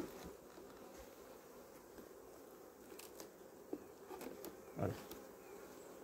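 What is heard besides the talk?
honey bees around a Layens-to-Dadant hive transfer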